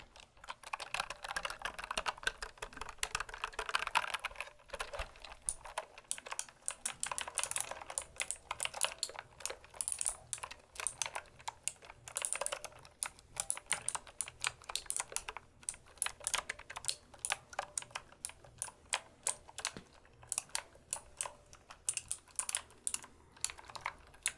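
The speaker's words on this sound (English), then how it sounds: "it was really, really difficult without a smaller keyboard" Steady, rapid clacking of keys on a computer keyboard, continuous and close, with a faint low hum of an air conditioning unit in the background and no talking.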